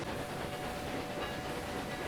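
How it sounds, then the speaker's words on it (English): Old steam train running in Railway Empire 2, a dense continuous rumble and rolling rail noise, steady and fairly loud with no talk over it. "especially an old steam train like this"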